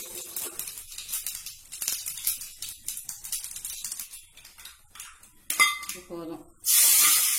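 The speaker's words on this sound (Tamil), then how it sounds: "எண்ணெய் காஞ்சிருச்சு, 1/4 டீஸ்பூன் கடுகு போட்டுக்கிறேன்." Mustard seeds and urad dal crackle and sizzle in hot oil, irregular pops and hisses rising to a loud burst of frying near the end, with someone speaking briefly.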